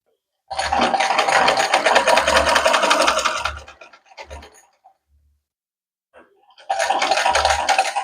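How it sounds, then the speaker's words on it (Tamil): A sewing machine stitches two pieces of fabric together in a fast, steady whirring run of about three seconds, falls quiet apart from a few soft handling sounds, then starts stitching again near the end. "இப்போ நாங்கள் மெஷினில் அடிக்க போகிறோம்"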